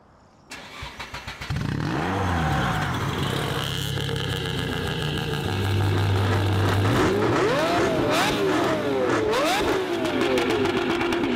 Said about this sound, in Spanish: debajo del capó hay un verdadero motor diésel de más de 170 caballos